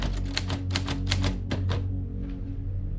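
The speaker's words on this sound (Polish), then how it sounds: "tym razem już nie zabawkową maszynę do pisania," A real typewriter being typed on, with a rapid burst of crisp key strikes for about two seconds, then quieter scattered taps, close and loud with no talking.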